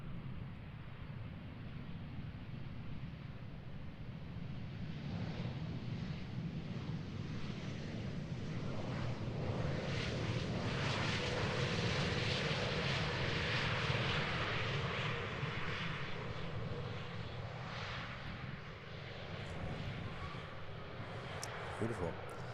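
An airplane landing at Schiphol Airport in Amsterdam on the Polderbaan runway on a cloudy day, a long, loud engine roar that swells and fades against wind noise, with voices talking under it.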